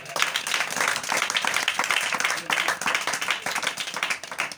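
Congregation at a Christian church service applauding in honour of Jesus Christ, a dense run of clapping from many hands that holds steady and fairly loud throughout.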